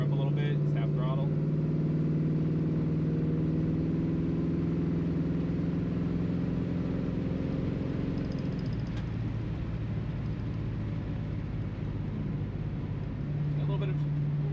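A classic Ford Mustang engine runs at half throttle through rusted-through mufflers with holes in them, a steady, loud droning exhaust whose pitch drops partway through and then rises again near the end.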